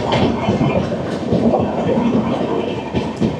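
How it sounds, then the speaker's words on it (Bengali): Humsafar Express 12503, running from SMVT Bengaluru to Agartala, passes close by with a loud, steady rumble and rattle of coaches and some clickety-clack of wheels throughout. "ওই যে ট্রেন নাম্বার 12-503 এসএমভিটি বেঙ্গালুরু থেকে আগরতলা হামসাফার এক্সপ্রেস।"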